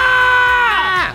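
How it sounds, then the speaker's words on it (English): Shrill, sustained screaming from an audience on cue at a live church kids' show, loud and continuous for about a second before tapering off. "Everybody scream."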